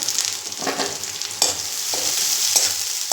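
Onions and curry leaves sauté in a hot pan with continuous close sizzling, broken by a few scraping stirs of a spatula, with no voices.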